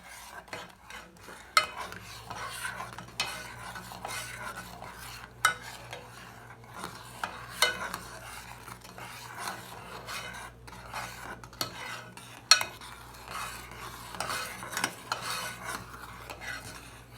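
Granola syrup is stirred in a pot on a stove at medium-high heat: quiet, repeated spoon scrapes and rasping strokes over a low steady hum and faint bubbling.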